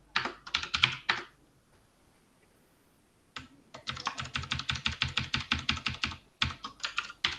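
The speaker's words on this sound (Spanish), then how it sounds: "el sonido del teclado mata" Rapid close-up clatter of a computer keyboard during a physics lecture, with a short burst, a silent gap of about two seconds, then a long dense run of keystrokes.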